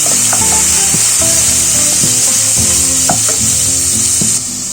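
Finely chopped onion and two green chillies fry in a pan while being stirred, making a bright continuous sizzle under repeated wooden scraping strokes, close and loud.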